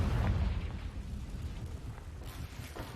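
A Confringo fire-blast spell goes off in Hogwarts Legacy as one loud, deep explosive boom that rumbles and fades over a few seconds.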